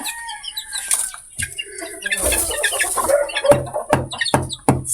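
Chickens and chicks cluck and peep at feeding time on sandy ground near the sea, close and lively, with occasional wing flaps among the repeated calls.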